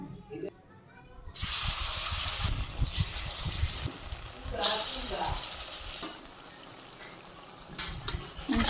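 Eggplant slices coated in a rice flour and atta batter fry in hot oil in a village kitchen, with a steady close sizzle that swells loudly as the pieces go in, plus occasional stirring clatter.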